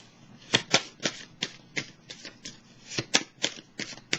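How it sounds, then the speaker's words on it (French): Tarot cards are shuffled and flicked in a rapid series of crisp, close snapping riffles, about a dozen distinct papery bursts in uneven rhythm with no talking. "je vais piger une carte"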